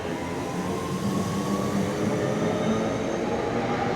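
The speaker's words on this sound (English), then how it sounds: "Now let's see this train leave" A train departs Newton for Hyde station on the Glossop line with a continuous close, loud rumble of wheels and motor and a faint rising whine, no voices.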